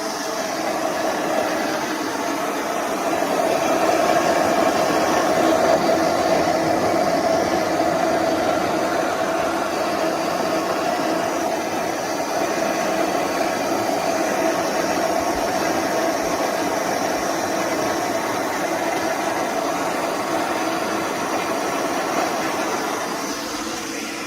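A blender runs continuously, its motor whirring loud and steady as it pulverizes ingredients, with no talking.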